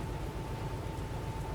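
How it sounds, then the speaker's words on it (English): Heavy rain in the train simulator game Derail Valley, a steady dense hiss of downpour with a low rumbling bed, constant and loud, no voices. "Wow, it's raining hard."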